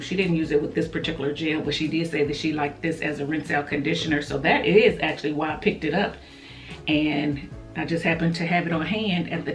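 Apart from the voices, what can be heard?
No everyday noises stand out.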